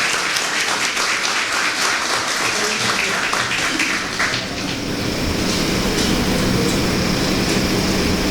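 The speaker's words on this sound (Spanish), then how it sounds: "Un aplauso." Audience applause at a panel on the historical significance of the Catholic Church's pastoral letter, a dense, steady wash of clapping filling the hall throughout, loud and continuous with no talk over it.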